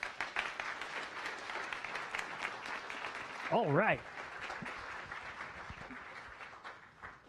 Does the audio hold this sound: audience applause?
yes